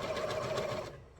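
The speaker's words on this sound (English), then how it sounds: "I don't know what's going on with my sewing machine" A sewing machine stitches quilt strips in a straight line, its steady motor whir running continuously up close for about a second before easing off at the end.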